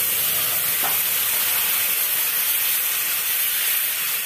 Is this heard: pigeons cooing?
no